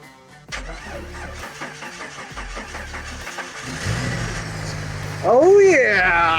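A car engine cranks in short bursts, catches and starts after an exhaust manifold replacement, then settles and revs loudly, close by.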